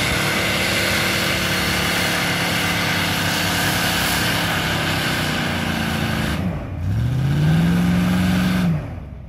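A Lada Niva engine working off-road in clay mud, droning steadily under load, then dipping briefly before a loud, sustained rev that climbs and holds for about two seconds and then cuts off.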